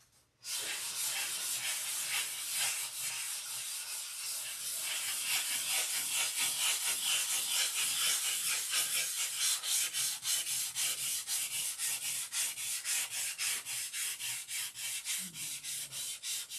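Hand sanding with 1000 grit sandpaper: a long run of quick, regular back-and-forth strokes, a close, soft hissing scrub that keeps a steady rhythm for over fifteen seconds.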